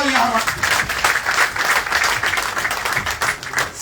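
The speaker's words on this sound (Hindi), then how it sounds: "जोरदार तालियां हमारे।" Audience applause at a BJP party workshop on a primary membership drive in Jammu and Kashmir. Dense, steady clapping is heard close up through the whole moment, with a voice briefly audible at the start.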